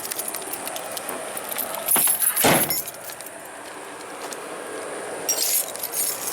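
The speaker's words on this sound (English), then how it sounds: "I set the keys down." Keys from a 1992 Ford Tempo GL are set down with a bright metallic jangle and clink, a short burst around the middle and a fainter rattle near the end, close by and with no talk.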